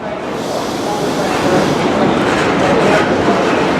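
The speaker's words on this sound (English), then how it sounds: "going out now is 1 Zulu 51, which is the 1532 Great Western Railway service to Newquay" A Great Western Railway service departs Plymouth for Newquay, its wheels rolling with rhythmic clickety-clack and steady rail rumble, loud and close throughout.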